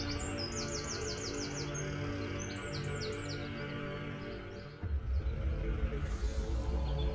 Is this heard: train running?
no